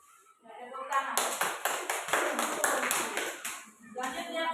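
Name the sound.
class clapping after presentation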